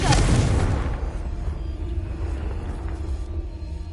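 A Confringo fire spell from the video game Hogwarts Legacy bursts in a loud, close blast with a deep boom that fades into a long, low rumbling tail.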